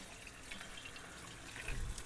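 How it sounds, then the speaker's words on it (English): Cold tap water runs steadily into a bowl in a home kitchen, a soft, even hiss of pouring water that swells slightly toward the end. "here I'm just filling the bowl up with cold water, nice cold water"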